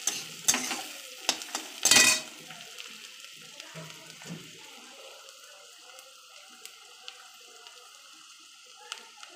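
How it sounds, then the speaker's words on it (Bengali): Onions fry in a pan while a spoon stirs them, with a few sharp scrapes and clinks early on, then a quiet, steady sizzle carrying on beneath. "পেঁয়াজটা ভাজা ভাজা হয়ে এসছে বন্ধুরা।"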